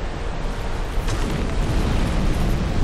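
A fire spell cast in Dark Souls II produces a dense, loud roaring whoosh with a deep rumbling body that holds steady throughout.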